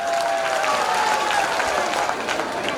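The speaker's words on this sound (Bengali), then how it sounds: "কবির ভাইয়ের জন্য একটা হাততালি হবে।" Audience applause at a school's 125th anniversary celebration, a dense burst of clapping from a crowd, loud and sustained for a few seconds.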